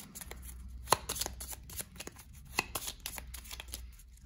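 Playing cards being shuffled nearby, a run of crisp riffling flutters with a few sharper snaps, steady and close.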